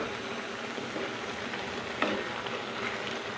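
Potatoes cook under a lid in a pan with eggs and soybean chunks, a steady close sizzling and bubbling hiss that runs without break, with a faint clink partway through.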